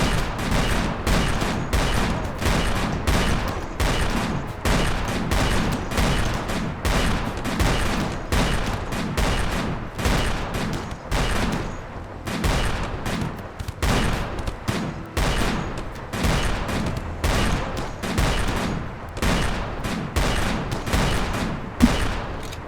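Near-continuous gunfire in a video game, a dense run of sharp, loud shots packed closely in rapid bursts throughout, with no talk over it.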